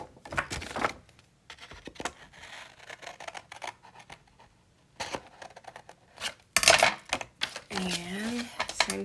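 Paper pieces cut away with scissors for a sewing-theme journal: crisp snips and rustles come in uneven bursts close up, with handling clatter and someone talking over parts of it.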